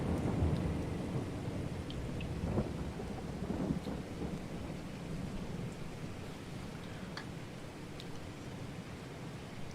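Rain and thunder in a farming video game: a constant wash of heavy rain with deep, rolling thunder rumbles that peak early and then settle into a continuous stormy roar.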